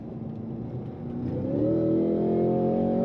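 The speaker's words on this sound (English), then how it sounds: "that supercharged V8 is a monster on power" Supercharged V8 of a 2026 Cadillac CT5-V Blackwing with automatic transmission, heard from inside as it accelerates: a steady engine drone that climbs in pitch and grows louder, with no voices.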